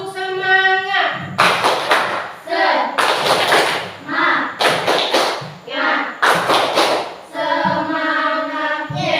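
Schoolchildren in a primary classroom perform a clapping chant together, with loud bursts of rhythmic clapping near the listener alternating with group voices chanting between the claps.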